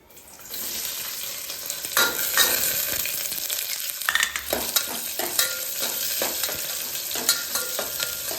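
Chopped onions drop into hot oil and fry over a low flame for pudina rice, giving a steady, close sizzle broken by scraping stirs and louder bursts of crackle.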